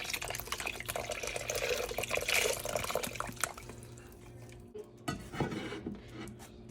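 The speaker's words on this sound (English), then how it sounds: "fill one of these up with water and pour it in" Water poured from a container into a crockpot for a dump-and-go meal, a steady close splashing and trickling pour that tapers off, with a few clinks of the pot near the end.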